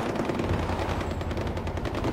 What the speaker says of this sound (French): il y a des coups de feu. Je sais pas si vous entendez des coups de feu.